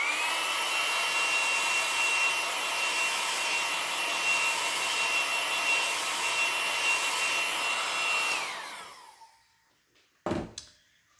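A hair dryer blows steadily on a craft project, a loud continuous whooshing airflow with a whining tone for about eight seconds before it switches off and winds down, followed by a brief faint handling clatter.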